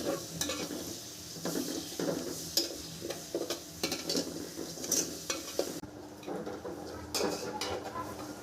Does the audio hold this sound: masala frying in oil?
yes